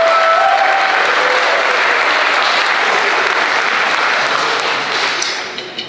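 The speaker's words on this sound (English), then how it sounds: "Round of applause for your students." A concert audience at a school district spring band concert gives the student musicians sustained applause, loud and dense at first, then tapering off with a few last claps near the end.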